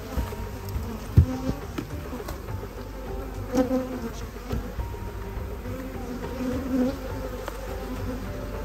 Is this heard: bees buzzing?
yes